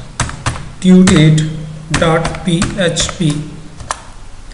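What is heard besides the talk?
typing a URL on a computer keyboard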